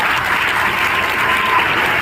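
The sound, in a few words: applause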